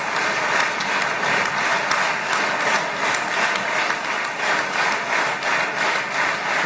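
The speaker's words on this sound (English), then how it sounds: "Listen to that applause." A large crowd breaks into loud, sustained applause, thick overlapping clapping with a faint pulsing swell that carries on steadily for several seconds.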